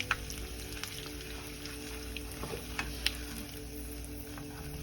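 Curry leaves sizzling in hot oil alongside green chillies for a pickle, a soft continuous crackle with scattered small pops, fairly faint and steady.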